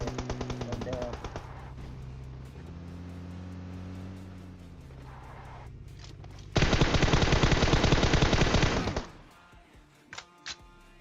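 Heavy automatic gunfire erupts in a PUBG match near a petrol pump, a loud rapid burst of shots lasting a few seconds, preceded by a vehicle engine's drone and followed by a couple of isolated shots.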